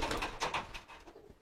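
A male pigeon in its courting, hen-driving phase gives soft, repeated cooing bursts, fairly close and quiet, tapering off toward the end with no talk over it.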